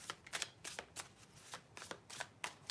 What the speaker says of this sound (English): It is hard to shuffle the mini, to be honest. When I try, they just end up everywhere. But these shuffle so easily.